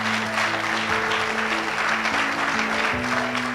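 A church congregation applauds steadily during a sermon, with dense, continuous clapping and a sustained tone of music or voices beneath it.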